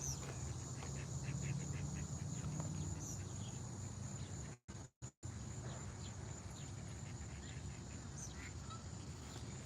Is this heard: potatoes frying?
no